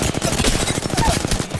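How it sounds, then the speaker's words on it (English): Rapid automatic gunfire from enemies shooting in a PC shooter lobby, a dense rattling burst of many quick shots that fills the whole moment, loud and close. "They're shooting at me."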